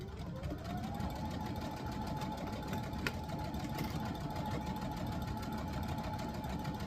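A sewing machine stitches a pocket seam at a 5/8-inch allowance. It runs in a fast, continuous whirring hum with a steady mechanical tapping, close but fairly quiet, and nobody speaks.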